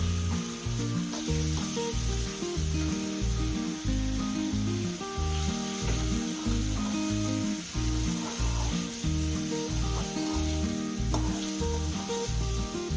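Ginger garlic paste, garam masala and turmeric fry in oil with a steady, loud sizzle and occasional stirring scrapes, layered over a rhythmic tonal backing throughout.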